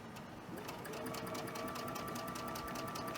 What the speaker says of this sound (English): let's sew this together